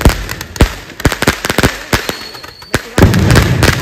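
Diwali night firecrackers bursting in a rapid, loud, close string of sharp cracks and bangs, ending in a denser continuous crackling burst.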